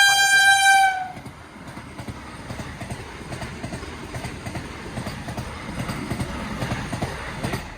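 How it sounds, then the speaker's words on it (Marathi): A train horn blares briefly, then a passing train rumbles with rhythmic clattering of wheels over rail joints, steady and fairly close. "तर इथं थांबलो आणि रेल्वे आल्या आता."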